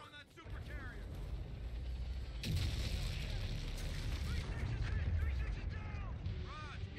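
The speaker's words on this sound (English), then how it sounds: "Scars, concentrate all fire on that super carrier" Sustained heavy weapons fire and booming blasts aimed at a super carrier in the Call of Duty: Infinite Warfare video game, loud and continuous under shouted voices and game effects.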